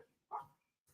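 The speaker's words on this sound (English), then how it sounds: "Sorry about my dogs." A single loud dog bark rings out close by indoors in a home, followed by a brief quieter sound at the end; no speech.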